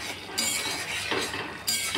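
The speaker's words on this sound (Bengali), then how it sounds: "এবার এগুলোকে একটু ভালো করে নাড়িয়ে দেবো আস্তে করে।" A utensil clinks and scrapes against a pan as shrimp curry with chopped coriander and garam masala is stirred gently, a few soft, close strokes with no talk.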